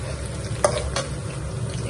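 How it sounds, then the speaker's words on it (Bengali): Potatoes frying in a pan, a close steady sizzle broken by two quick scraping stirs in under two seconds, no talk. "আমি আলু কপি ডালনার জন্য আলুগুলো ভেজে নিচ্ছি সবজি রান্না করার জন্য"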